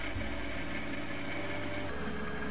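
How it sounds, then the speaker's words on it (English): Truck engine in the Roblox game Lumber Tycoon 2, a short, steady, noisy idling drone with a slight shift in tone near the end. "My noisy truck."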